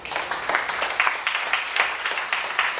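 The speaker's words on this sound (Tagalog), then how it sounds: "Palakpakan natin si Lord." Congregation at a church service applauds together, a dense wash of clapping with rhythmic surges, moderately close and steady throughout.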